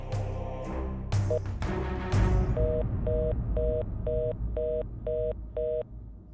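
A mobile phone call is placed: a few quick button tones are followed by seven evenly spaced ringback pulses, all clear and close.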